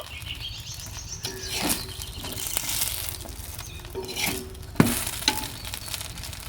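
An aloo kulcha fries in a pan, giving a steady low sizzle with scattered clicks and scraping knocks from a utensil, moderately quiet throughout.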